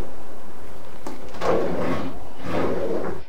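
Bathroom drawers in a large manufactured home slide open and shut, giving a sharp knock followed by two rolling, scraping slides, close and loud, with no talk.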